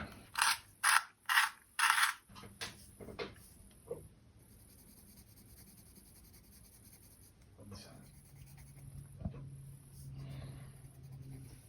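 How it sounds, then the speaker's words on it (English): Cadmium yellow colored pencil being sharpened: five quick, rhythmic grinding bursts up close, followed by softer scraping and handling noises at low level. "So I'm going to kick off with a cadmium yellow, and I'm just going to sharpen that so I can really nail it."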